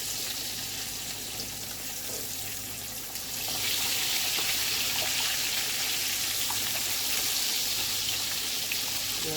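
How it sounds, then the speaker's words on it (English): Pork chops frying in hot oil, a constant dense hiss and sizzle that swells louder partway through, close and steady with no talk. "let's get our oil heating up to start our pork chops"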